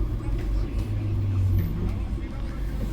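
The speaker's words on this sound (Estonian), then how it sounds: "See buss on oma viimasel jalal, aga vähemalt me ei pidanud jala minema ülesse" City bus number 30, an old, worn-out bus, climbs uphill with a low, steady engine rumble and slight swells in effort, close by, while people talk over it.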